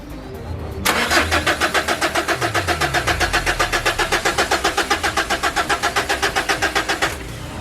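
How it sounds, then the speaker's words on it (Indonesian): Mitsubishi Triton with a suspected injector fault cranks long and hard without starting, a rapid rhythmic starter-motor chug that begins abruptly and runs steadily for about six seconds, loud and close, before cutting off. "apabila kendaraan di starter panjang dan sulit untuk hidup, itu ada kemungkinan injektor mengalami kerusakan"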